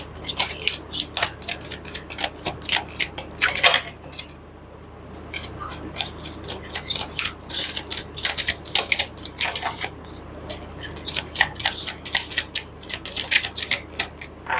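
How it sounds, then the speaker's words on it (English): Tarot cards are shuffled in quick repeated bursts of crisp riffling and flicking, close up, with short pauses between rounds and faint talk underneath. "You can skip if you don't want to see the shuffling."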